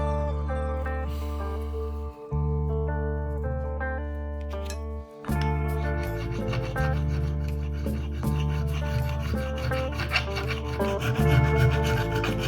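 A crowning file rasping along guitar frets during a refret, steady rhythmic rubbing strokes under a continuous layer of music, close and moderately loud throughout.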